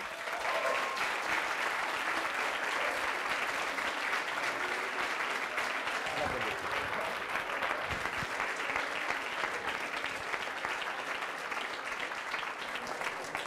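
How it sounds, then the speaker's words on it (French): A large audience applauds steadily and evenly for the year's work at a French debrief of the presidential election. The dense clapping holds for the whole stretch, with no voices standing out. "je pense qu'on peut tous les applaudir pour le travail qui a été fait cette année"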